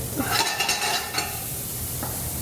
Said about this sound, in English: Do some pro whisking